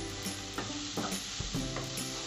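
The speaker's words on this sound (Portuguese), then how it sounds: "Eu coloco a linguiça agora, tá?" Smoked calabresa sausage frying in a pan with a broad, steady sizzle, broken by a few clacking stirs and scrapes spread through the stretch; close and continuous, no voices.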